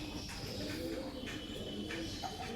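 Black madras pigeons kept as domestic birds cooing, a steady low repeated coo close by with soft chirps and rustling, no clear speech.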